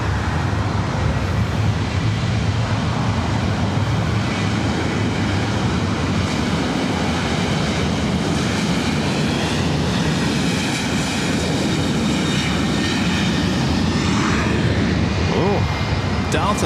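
A Delta jet, flight 437, takes off at LAX, producing a loud, sustained roar of engine noise that fills the whole stretch, with faint voices talking beneath it.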